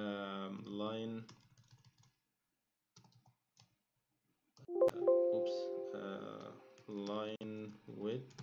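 Someone types briefly on a computer keyboard between stretches of speech, a short run of soft, close key clicks.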